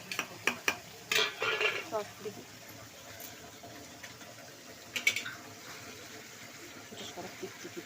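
Tomato and chilli being stirred in a pan, with scraping and soft clinks of a utensil in bursts over a low sizzle; someone speaks throughout.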